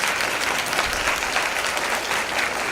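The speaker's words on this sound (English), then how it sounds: "we want to give you a welcoming round of applause for being here tonight" Dense, continuous applause breaks out at a school board meeting to welcome guests and their families. The clapping is loud and even throughout and carries no speech.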